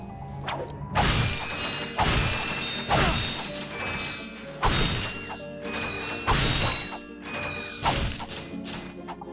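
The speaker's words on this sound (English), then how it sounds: "simply attach your wrench to the bolt crank and spin it down" A wrench cranking a bolt crank in the Ratchet & Clank game on Planet Novalis: loud, repeated metallic ratcheting clanks and grinding in regular heavy pulses, roughly one every second or so, with no talking.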